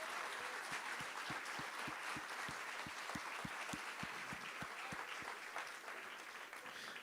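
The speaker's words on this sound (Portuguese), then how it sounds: "Você pode aplaudir ao Senhor Jesus?" A church congregation applauds in a steady wash of clapping, with a prominent regular rhythmic beat running through it, fairly distant and soft throughout.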